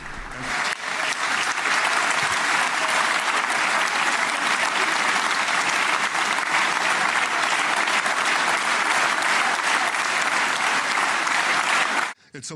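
A Knesset audience gives Donald Trump a loud, sustained ovation of dense applause that holds steady for about twelve seconds before cutting off abruptly.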